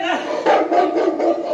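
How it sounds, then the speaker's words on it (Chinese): A pit bull barks during a police raid on a house in Tainan, its sharp, close barks coming in quick repeated bursts, loud and agitated. "企图安抚比特犬情绪，汪汪声狂叫"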